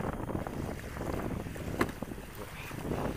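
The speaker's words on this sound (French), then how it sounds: "Là c'est embêtant le vent de sud-ouest," Steady southwest wind buffeting the microphone over a low, continuous rumble of moving sea water while kayak fishing off Arromanches, France, with a brief sharp knock near the middle.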